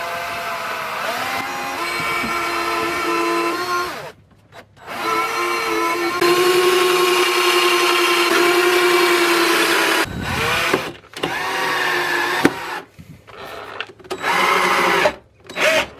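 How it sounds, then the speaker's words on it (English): A power drill drives screws from the outside into a repurposed bookcase base, giving several whirring runs of varying pitch separated by brief pauses, close and fairly loud. "all I'm gonna be doing to attach it is just drilling and installing some screws from the outside"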